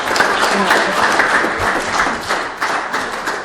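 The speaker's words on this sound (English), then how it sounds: "I want you to do another clap for yourselves for coming." An audience at an AAUW candidate forum applauds steadily for a few seconds, dense overlapping claps forming a continuous wash of sound.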